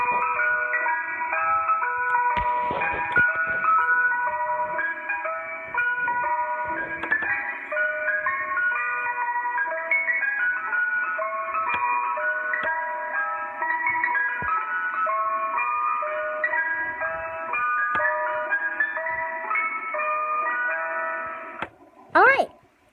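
Ice cream truck chime melody playing continuously and loudly, a bright repeating tinkling tune with a brief clunk near the end, no talking.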